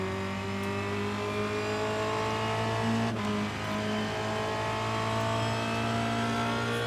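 A race car engine in the iRacing simulator rounding a hairpin, a steady drone holding a constant pitch throughout with a brief dip partway, loud and continuous with no talking.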